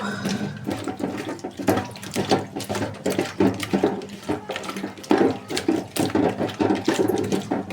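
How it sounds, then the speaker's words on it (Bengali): Tap water runs steadily while fish are washed in a kitchen sink, with splashing and handling noises rising and falling throughout; no one speaks. "মাছগুলো এখন ভালোভাবে ধুয়ে নেব।"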